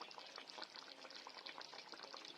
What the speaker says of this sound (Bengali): অল্প একটু জল দিয়ে নিচ্ছি